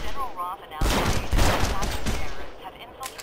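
Enemy gunfire in Red Faction Guerrilla: a dense burst of automatic shots and blasts that swells to a loud, continuous fusillade, with a brief game voice at the start.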